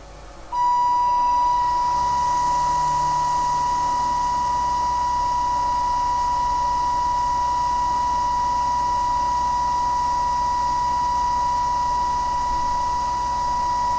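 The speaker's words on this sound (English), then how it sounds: "And turn on the cutting motor." A mower unit's cutting motor spins its blade at high speed, giving a loud steady electric whine with a sharp constant tone that holds evenly after starting up, with no talking.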